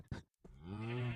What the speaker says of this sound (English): Look at the cow.